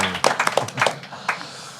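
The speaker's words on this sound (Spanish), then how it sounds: "vamos a darle un aplauso a los patrocinadores" Brief round of applause from a presentation audience for the sponsors, a scattering of hand claps, fairly close and thinning out after a second.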